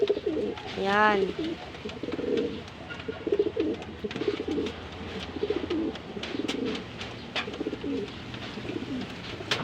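Pigeons coo in rolling, repeated bursts close by, with several overlapping calls and light scuffling, while someone speaks intermittently over them.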